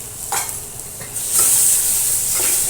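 Ground coconut paste roasts in a pan on a low flame for stuffed crab, with a steady close hiss and sizzle and occasional scraping strokes of a spoon stirring, no voices.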